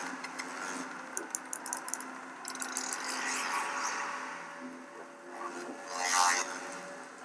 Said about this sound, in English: The sound you're hearing is a light black hole banging on space each time it gets